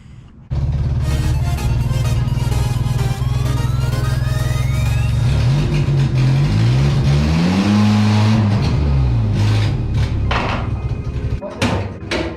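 A turbocharged Mazda Miata engine idles loudly nearby, then revs up in rising and falling sweeps before settling back, with a faint whine over the rumble.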